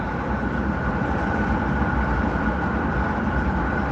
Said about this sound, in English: it's the train going south that's loud because it's closer to me